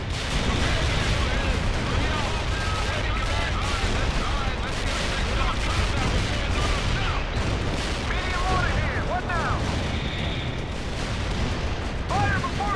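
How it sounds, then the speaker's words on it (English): Continuous dense battle din from the 2007 real-time strategy game World in Conflict: soldiers' gunfire and heavy artillery booms layered over each other, loud and unbroken throughout, with voices mixed into the chaotic soundscape. "These men are shooting something"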